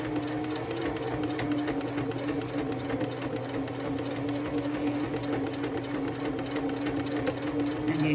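A sewing machine runs a free-motion zigzag stitch around an appliquéd thread spool keychain, making a close, steady rapid whirring chatter that continues unbroken throughout with no voices.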